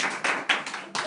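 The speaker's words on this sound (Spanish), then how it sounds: "El aplauso para el grupo 4." Brief applause from a small audience for a presenting group at a theology workshop, a few bursts of clapping rising and falling in quick succession, fairly quiet.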